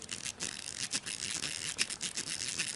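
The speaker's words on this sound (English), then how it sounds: "You spin it and it sounds like a zipper." A fidget cube spinner makes a steady, fast whirring rattle like a zipper being pulled repeatedly, close and fairly quiet, with brief surges and dips in intensity.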